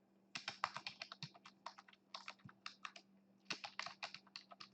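Fingers tap out a password on a computer keyboard, quick quiet keystrokes in two bursts with a short pause between them, close by and without any talk.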